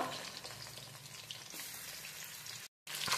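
Fish heads sizzle and crackle steadily in hot oil in a home kitchen, a continuous close frying hiss with a brief dropout near the end.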